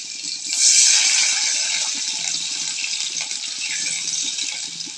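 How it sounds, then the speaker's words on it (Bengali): A small amount of water splashes into a hot pan of frying onions, opening with a loud hissing gush that settles into a steady bubbling sizzle, heard close without any speech. "এখন সামান্য পরিমাণ পানি দিতে হবে"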